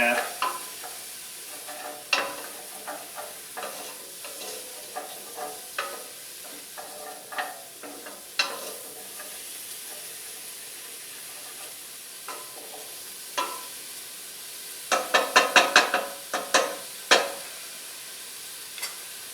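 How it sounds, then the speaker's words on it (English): Mushrooms frying in a pan for a spicy red sauce with crabmeat, a soft steady sizzle broken by repeated scraping stirs that cluster more busily near the end, with no talk. "And the mushrooms are just starting now to cook."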